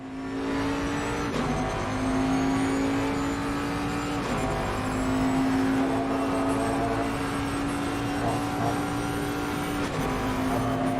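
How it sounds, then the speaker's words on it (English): A BMW race car engine in a sim racing game at Misano holds a steady high drone at sustained speed, with a few brief dips as the gear shifts, loud and continuous with no talk. "Get the BMW into 6th gear down there."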